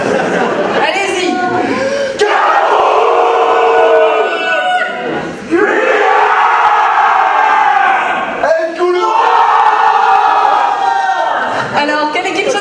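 Talent show audience cheering and shouting loudly and continuously, a dense crowd roar with whoops swelling in waves and brief dips between bursts.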